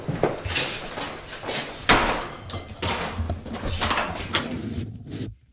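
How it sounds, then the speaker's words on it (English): A door slamming shut inside the old Hulbert House in Boonville, NY, heard as a sharp heavy bang amid several knocks and thumps over constant room noise, with no talk. "here we go with the door slamming video clip."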